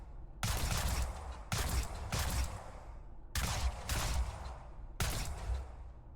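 Sustained bursts of gunfire from the bullet hell FPS game Luna Abyss, loud and close, coming in roughly five dense volleys separated by brief gaps with decaying tails, with no talking over them.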